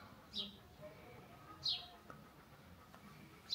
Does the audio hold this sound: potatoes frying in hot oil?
no